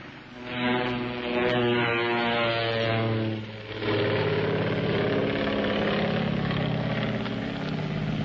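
Propeller airplane engine droning steadily and loud up close, with a brief dip around three seconds before the harmonic engine note returns and holds; no talking.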